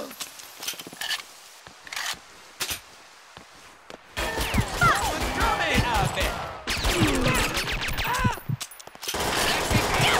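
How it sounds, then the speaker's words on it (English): Gunfire in the Perfect Dark Zero video game: sparse single shots at first, then after about four seconds a dense, loud run of rapid bursts mixed with other game effects, broken by short gaps. "Shooting!"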